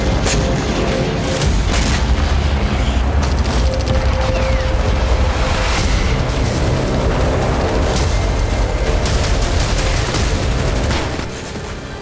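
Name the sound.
explosions from Ukrainian attack on Crimea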